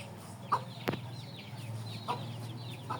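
Chicks and hens cluck softly with scattered short calls and chirps in a quiet yard, fairly faint and with no voices.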